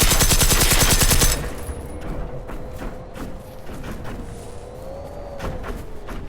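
Rapid automatic gunfire in the open-world shooter Generation Zero, a loud dense burst of shots for about a second, followed by quieter scattered thuds and a droning tone.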